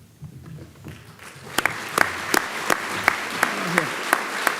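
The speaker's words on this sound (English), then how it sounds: "I'd like to applaud you." Audience applause at a congressional awards ceremony, a soft patter of clapping that swells into steady hands with several sharp, louder claps standing out, indoors and with no talk.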